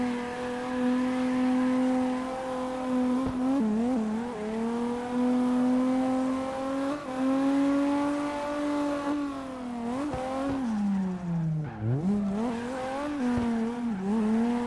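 Video game engine from CarX Drift Racing online, held high through a long drift on a racing track: a steady loud revving drone with shifting pitch, dipping sharply near the end, continuous and close with no talk.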